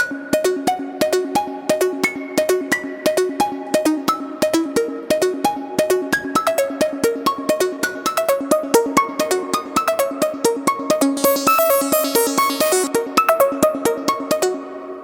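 A modular synthesizer voice, passed through a passive low pass gate, plays a rapid run of plucked, bright notes in a steady rhythmic pattern, loud and continuous, with a shimmering high layer swelling in near the end.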